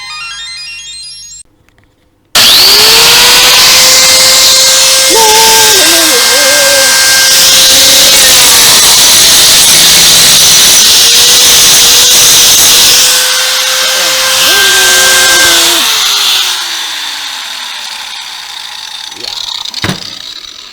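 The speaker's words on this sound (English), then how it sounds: "what I'm gonna do is just drill it out and go from there" A power drill bores out a stuck part on a gasoline generator being repaired, whining loudly and steadily with pitch dips as the bit bites and slows, then winding down toward the end; close and alone after a brief quiet start.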